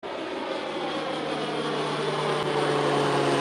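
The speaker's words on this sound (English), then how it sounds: "I think my favorite plane is coming. The one that sounds like an actual real airplane with the pointed wings." A fixed-wing airplane with pointed wings passes overhead near an airport, its engine a steady, loud, continuous roar with a droning hum that holds level for the whole stretch, no voices over it.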